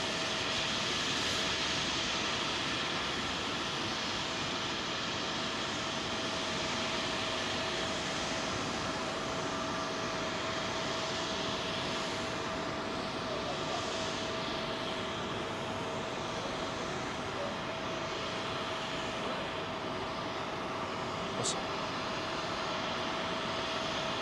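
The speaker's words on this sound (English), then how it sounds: "Trent 7 powered Virgin Atlantic A330-300 off to Antigua." A Virgin Atlantic Airbus A330-300 with Rolls-Royce Trent 700 engines takes off from London Heathrow runway 27L in calm winds, a steady distant roar of jet engines that holds for over twenty seconds without voices.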